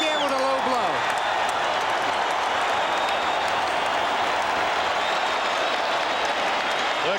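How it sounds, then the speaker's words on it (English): A boxing crowd at the Evander Holyfield versus George Foreman heavyweight fight applauds and cheers in a continuous dense wash of clapping, steady and loud throughout, with a voice briefly audible at the start. "The crowd loves it."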